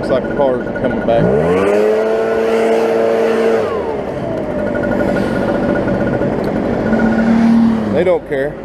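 A car drives past on a road beside a lawn being edged, trimmed and mowed. Its engine rises and falls as it nears and passes, with loud mechanical drone and talk throughout.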